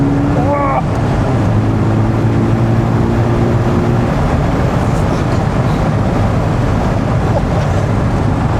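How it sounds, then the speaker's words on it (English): Steady, loud roaring wind rush inside a moving Morgan Plus Four, constant through the whole stretch and mixed with road and engine rumble, with a voice speaking briefly near the start. "There's a lot of wind noise, isn't there?"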